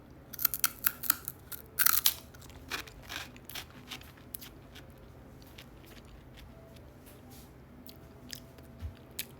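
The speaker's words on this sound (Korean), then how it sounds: "양파링은 바삭바삭하고요" Crunchy onion ring snacks are bitten and chewed close to the microphone, a burst of loud crisp crunches early on that gives way to quieter, scattered chewing crackles.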